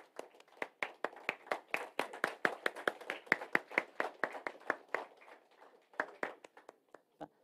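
An audience claps at a Salesforce developer group session in Bengaluru, a steady run of distinct hand claps over about seven seconds, moderately loud with no talk, thinning and tapering toward the end.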